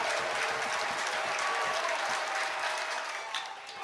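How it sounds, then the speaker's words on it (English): A baseball stadium crowd rises to its feet with loud, sustained cheering and applause during an NCAA championship game, with bases loaded and two outs. It is a dense, continuous roar that eases slightly near the end. "Here comes the crowd to its feet."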